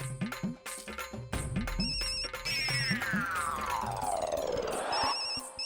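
A mobile phone ringtone plays a bright electronic melody with repeating tones and a rising sweep, fairly faint and without talk.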